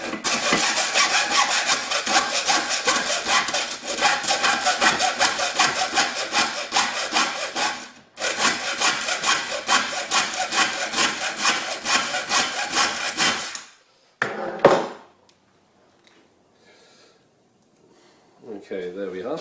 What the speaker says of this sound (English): just with a hacksaw I'm going to cut down the edge of the vise in the centre of the tape